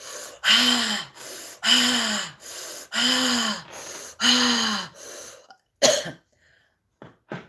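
A person breathes out loudly and forcefully in a stress-release exercise, five strong rhythmic exhales each about a second long with short pauses between, followed by a sharper gasp and a couple of soft breaths, close and clear.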